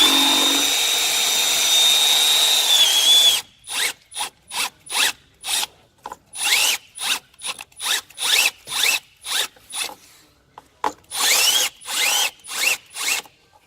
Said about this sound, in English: We'll be drilling a hole through here to make room for our harness.